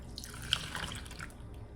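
A thick mix of coconut milk and water is dumped into a steamer pot with a short, faint liquid splash and pour lasting about a second, heard alone.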